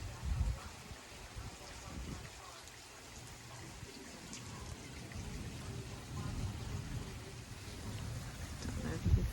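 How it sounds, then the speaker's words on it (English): Steady hurricane rain with a broad hiss and scattered drops, continuous throughout at moderate level, with low rumbling underneath. "See, the rain just comes and goes."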